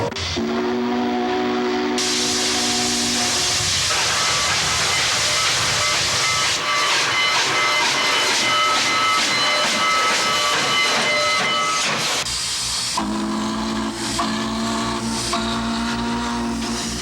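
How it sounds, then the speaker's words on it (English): Union Pacific steam locomotive 844, pulling the historic Centennial train, hisses loudly with steam and sounds its whistle in long tones, a heavy continuous rail roar close by. "the Union Pacific put together their historic Centennial train pulled by the venerable steam locomotive 844"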